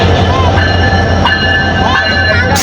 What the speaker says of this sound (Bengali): ঢাকার ট্রেন চলে আসছে